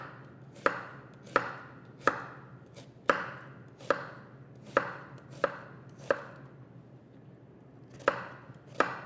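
A knife slices an onion on a cutting board in a steady series of about a dozen crisp, sharp chops, close and clear with quiet pauses between them.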